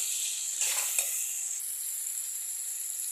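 Potatoes and ridge gourd sautéing with salt in a pan give a steady, close sizzle that runs throughout, with a brief stirring rustle about a second in.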